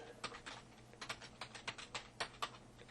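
Quiet, close keystrokes on a computer keyboard as a search term is entered, about a dozen light clicks in a quick, slightly uneven burst.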